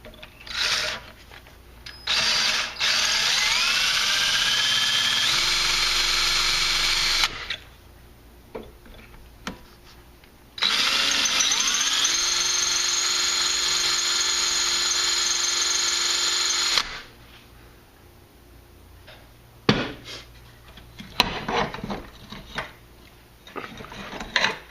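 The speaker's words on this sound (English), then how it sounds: "come back with the appropriate drill bit and drill out the hole and tap" A drill whines steadily in two long bursts as it bores holes through metal for a homemade camshaft sprocket spanner wrench, with short pauses and clicks between runs.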